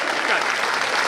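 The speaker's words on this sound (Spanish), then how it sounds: "Fuerte el aplauso para los bailarines" Audience applause for dancers at a live show in Coronel Dorrego, a dense, steady wash of clapping throughout with some voices mixed in.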